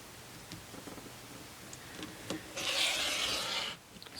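Quilting fabric is cut on a mat, with scattered soft taps and handling noises leading into one brief, bright scraping swipe lasting about a second, quiet and close.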